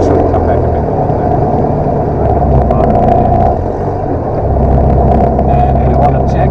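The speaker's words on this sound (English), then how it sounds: "So the engine's up and running, reasonable revs" A small piston engine of a light aircraft idles steadily nearby after start at about 1,000 rpm, with a low, throbbing drone that dips briefly midway, while a voice talks over it.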